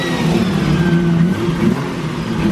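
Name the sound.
loud JDM car engine revving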